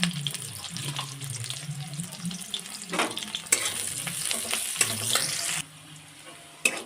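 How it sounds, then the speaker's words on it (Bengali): Onions sizzle and hiss in oil in a wok, close and loud, with scraping stirring strokes and bursts of spitting as they fry. "পেঁয়াজটা ভেজে নেব।"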